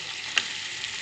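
Potatoes tipped into hot oil while cooking biryani give a steady, close sizzle throughout, with one brief clatter near the start.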